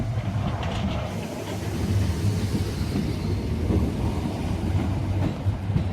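A British Rail Class 456 train of two coupled units pulls in with a loud, rumbling roar of wheels and running gear that rises and holds steady, with clattering rail joints.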